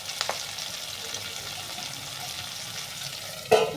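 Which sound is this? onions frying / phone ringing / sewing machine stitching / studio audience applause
onions frying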